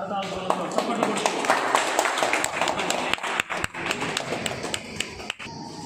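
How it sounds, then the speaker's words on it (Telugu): An audience claps at the blessing of a new Catholic church, St. Anthony of Padua in Ponathota Parish, giving sharp, close, fairly sparse claps under a loud speaking voice. "మరొకసారి గట్టిగా అందరూ కూడా కరతాళంతో చప్పట్లు"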